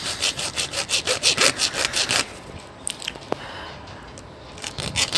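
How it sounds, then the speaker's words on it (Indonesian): A hacksaw cuts through an alkaline battery in fast, rhythmic back-and-forth strokes for about two seconds, followed by quieter scraping and handling noises, close and with no talking. "Jadi kita harus memotongnya dengan menggunakan gergaji besi."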